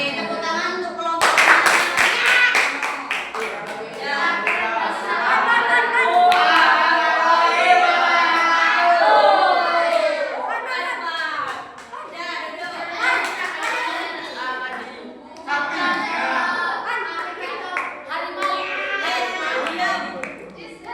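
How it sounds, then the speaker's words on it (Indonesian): Children in a classroom lesson clap together for a group, a burst of brisk, overlapping claps mixed with lively kids' voices and ongoing chatter. "Oke, tepuk tangan untuk kelompok."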